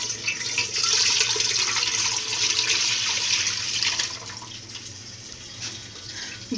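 Milk poured into a pot for matka kulfi, a steady liquid splashing and rushing stream that swells quickly, holds loud for a few seconds, then tapers off.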